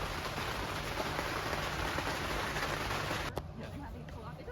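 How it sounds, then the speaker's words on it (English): Steady rain patters on the surfaces of a boat sitting in a canal lock on the Trent-Severn waterway, a dense even hiss throughout with one sharp knock near the end and a slightly quieter tail. "Sitting in the lock. Raining."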